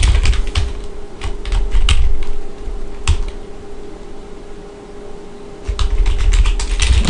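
Rapid keystrokes clatter on a computer keyboard in uneven bursts, pausing through the middle before resuming quickly near the end.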